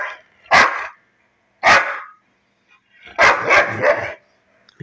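A dog barks in three loud, close bursts, with the last burst a quick cluster of several barks and short silences in between.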